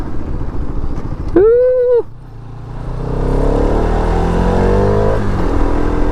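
A motorcycle fitted with a full system exhaust gives a short, sharp rev with a strong rising and falling tone, then settles into a broad, steady engine rumble close by.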